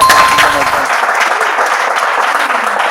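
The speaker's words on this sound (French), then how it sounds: "Bah, on peut applaudir." A Bible quiz audience breaks into loud, dense applause, strongest at the outset and continuing steadily to the end, with a faint voice briefly underneath.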